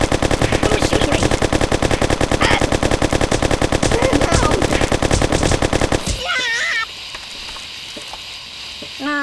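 Rapid automatic gunfire from the Kick the Buddy video game rattles loudly and continuously for about six seconds, then cuts off abruptly, leaving quieter game effects and a few short tonal blips.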